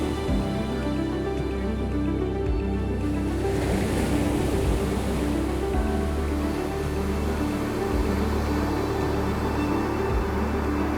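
Atlantic waves breaking on a black-sand beach below rocky cliffs on Madeira, a steady loud surf wash with repeated swells rolling in and receding, wind noise mixed in, no voices.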